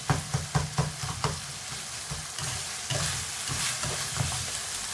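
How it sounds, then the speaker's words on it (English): Keema being broken up and mixed with a spatula in a pan: a run of sharp, rhythmic taps and scrapes against the pan at first, then continuous scraping and stirring over a soft sizzle, close and without talk. "Just break the keema with your spatula or spoon so it's nice"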